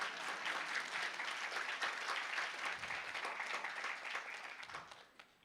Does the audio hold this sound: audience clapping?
yes